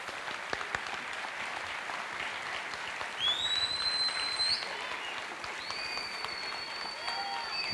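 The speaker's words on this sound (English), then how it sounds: "So let's give them a round of applause for courage." Applause from the audience at an adult education commencement ceremony, a steady wash of clapping with faint crowd murmur and a few thin high squeals or whistles mixed in.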